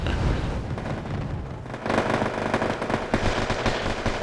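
A Su-17 jet making a strafing run in Wargame AirLand Battle: dense, loud crackling bursts of rapid cannon fire and explosions, briefly thinning before a renewed rattling barrage.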